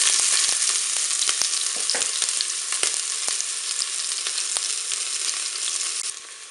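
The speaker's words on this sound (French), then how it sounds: "Je vais pouvoir faire revenir mes oignons." Onions frying in olive oil inside a Cookeo multicooker, a steady close sizzle with scattered crackles and pops running throughout, no voices.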